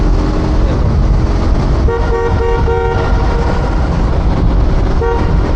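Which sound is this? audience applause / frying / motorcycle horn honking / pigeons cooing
motorcycle horn honking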